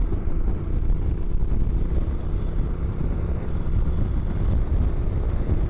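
A Honda NC700X motorcycle cruises at highway speed in sixth gear around 3,200 to 3,500 RPM, its engine a steady low drone beneath heavy, continuous wind roar with no pauses.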